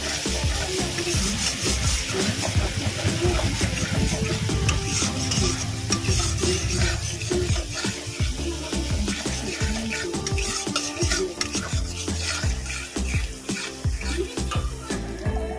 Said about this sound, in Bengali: আমি এখানে যে মশলাটা ভিজিয়ে রেখেছিলাম সেই মশলাটা দিয়ে দিলাম আমি এই মশলাটা ভালো করে কষিয়ে নিয়েছি